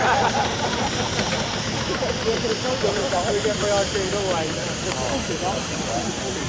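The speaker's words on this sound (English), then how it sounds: "it's another Foster traction engine 4-inch scale built by Tony Russell of Marlborough in 1991" A 4-inch scale Foster steam traction engine built in 1991 runs at a steam and vintage transport rally, a loud continuous hiss with rumbling under a voice.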